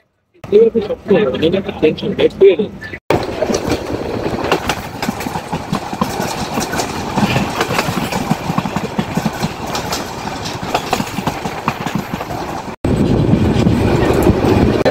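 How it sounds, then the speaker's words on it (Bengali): Inside a crowded passenger carriage of the Mahanagar Express running at night between Dhaka and Chattogram, a loud continuous rumble and rattle of the moving train fills the space, with passengers' voices mixed in. "এটি হচ্ছে আমাদের মহানগর এক্সপ্রেস ট্রেন"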